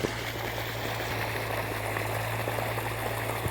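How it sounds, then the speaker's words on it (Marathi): Water from two river pipelines gushes in a continuous, steady rushing flow, close and even, with a low constant hum beneath and no talking. "ही हे बघा दोन पाईपलाईनमधनं पाणी पडते बघा"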